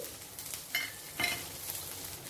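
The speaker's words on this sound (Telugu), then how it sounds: "కొద్దిగా కరివేపాకు వేసుకొని ఉల్లిపాయ ముక్కల్ని 1 నిమిషం ఫ్రై చేసుకోవాలి." Onions and curry leaves fry in hot oil with a steady sizzle, broken by two brief stirring scrapes in the pan; close and moderately loud, no speech.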